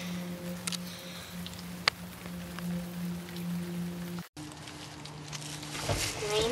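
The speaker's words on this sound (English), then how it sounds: "The rain has stopped, and now I must get food." Steady rain patters down in a tropical jungle beside a wooden hut, a dense, even hiss with a low hum underneath and a few sharper drips, continuing after a brief cut.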